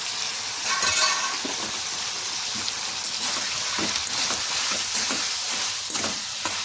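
Mutton pieces frying in hot oil for a curry, giving a steady, close broadband sizzle with faint scattered crackles and light stirring scrapes, no talking.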